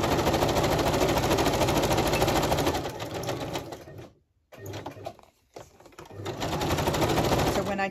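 A sewing machine zigzag-stitches across a paper collage page, running in a fast steady chatter, pausing briefly twice, then starting up again, close and loud.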